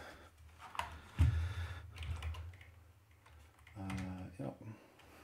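Rapid clicking of keys on a computer keyboard while card values are looked up during a baseball card box break, the uneven taps close and mixed with a man's speech.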